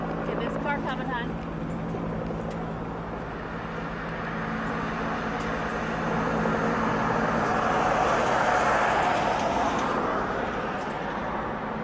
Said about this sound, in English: Get this car coming, hon.